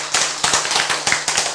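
Audience clapping during a Korean church sermon, a burst of sharp, dense claps in uneven pulses filling the short stretch with no talking.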